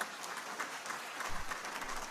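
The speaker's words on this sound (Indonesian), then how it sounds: "boleh beri tepuk tangan." Audience applause fills a hall during a talk, a soft, dense patter of many hands heard at a distance and fairly quiet, with a brief low thump partway through.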